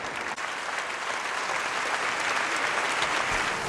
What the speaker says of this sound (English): an ecstatic reaction from the crowd inside this Congress section